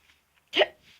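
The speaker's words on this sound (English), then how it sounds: "Sorry, hiccups." A person hiccups once, a sudden, sharp and fairly close sound against near silence.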